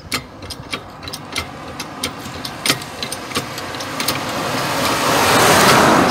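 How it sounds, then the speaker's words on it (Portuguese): A car on the road swells from distant to near, its engine noise building into a loud rush at the end, over a series of sharp clicks from work on a square-body Volkswagen Gol with a jack. "Passou o carro aqui agora no momento, né?"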